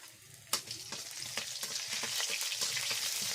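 Garlic sizzles in hot oil in a pan with bay leaf and crushed cardamom, a loud steady crackle after a sharp clatter as it goes in, with scattered stirring scrapes and pops.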